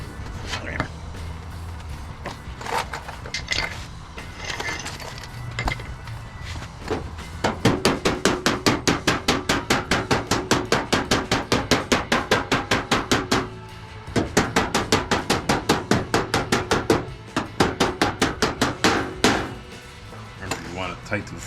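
A steel hammer strikes a car door skin held against a dolly during panel work, ringing out in long rapid runs of sharp metallic taps with brief pauses between bursts; someone talks now and then between strikes.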